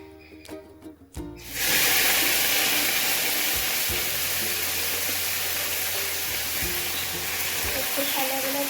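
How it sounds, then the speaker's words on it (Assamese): Taro (kochu) pieces, soaked with lemon, drop into hot oil in a kadai and break into a loud, steady sizzle that holds for several seconds after a quiet start. "তাৰপিছত এতিয়া মই কেৰাহীত দি দিওঁ।"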